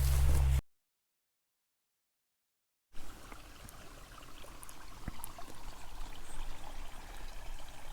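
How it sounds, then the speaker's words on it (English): Steady outdoor trickle of water running through a farm field, low and continuous, following a brief loud burst and a stretch of silence. "Can you hear the water running through here?"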